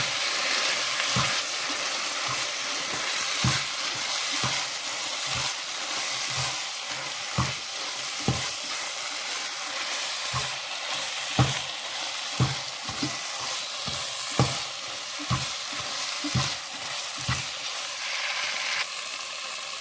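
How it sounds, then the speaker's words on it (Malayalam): Chicken gravy with lemon juice cooks down for biriyani, a steady close sizzle and bubble with regular stirring scrapes and taps of a spoon against the pot, with no talking. "ഇത് രണ്ടും കൂടെ ചേർത്തിട്ട് നമുക്ക് ഈ ചിക്കൻ്റെ ഗ്രേവി ഒന്ന് വറ്റിച്ചെടുക്കാം"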